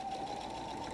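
A sewing machine runs steadily, stitching down the side of a fabric messenger bag with a tighter stitch length, a continuous close motor whir with no talk.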